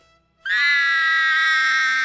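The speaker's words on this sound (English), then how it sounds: "It was an ear-splitting scream that shot through the woods, reverberating from tree to tree, rock to rock." A woman's sustained, piercing scream in a horror audio drama, bursting in suddenly after a brief silence and holding loud and shrill without a break.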